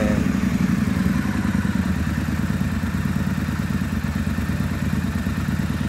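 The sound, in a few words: motorcycle engine running with aftermarket exhaust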